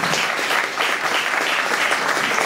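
An audience at a civic list presentation in Montefano claps warmly for a candidate named Liliana, a full steady round of applause from a room of people.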